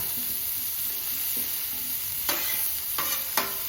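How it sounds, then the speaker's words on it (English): Ham fat renders and sizzles on a Camp Chef flat top griddle with a constant close hiss, then a few sharp scraping spatula strokes near the end. "you can see all the fat rendering out right now"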